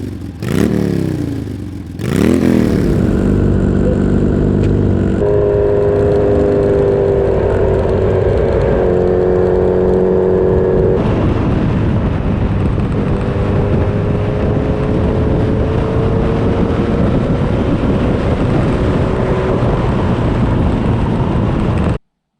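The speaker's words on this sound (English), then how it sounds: "a lot of motorway riding. So you got all the wind noise at high speeds" Riding a motorcycle at high speed on a motorway, heard through a SENA Momentum Evo helmet, produces a loud, continuous roar of wind and engine. Engine tones rise and hold as the bike accelerates, with a clattering burst near the start.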